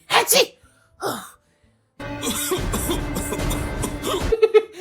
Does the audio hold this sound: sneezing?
yes